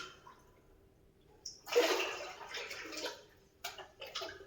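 Water is poured into a goldfish aquarium, a soft splashing gush that rises, then continues unevenly with gurgles and a few sharper splashes, fairly close and without talking.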